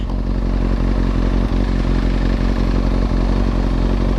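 A Kawasaki ZX6R 636 fitted with a Yoshimura exhaust rumbles loud and close, its engine note steady and throbbing as it pulls away from a red light.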